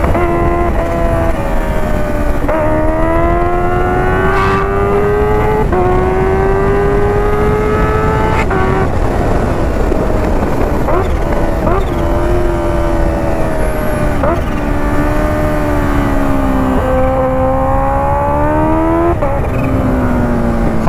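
Modified Kawasaki H2 motorcycle on a road, its supercharged engine loud and close, revving and climbing through gears over twenty seconds with a few sharp shifts and no talking.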